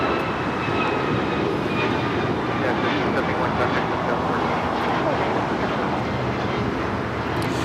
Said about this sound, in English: 1571 taking off to Houston Intercontinental on the MAX 9